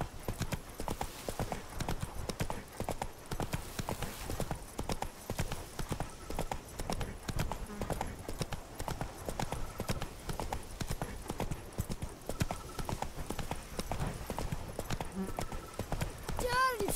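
Hooves of a horse galloping steadily in The Witcher 3: Wild Hunt (Blood & Wine), a continuous rapid clip-clop rhythm under game ambience, with a brief whinny-like sound near the end.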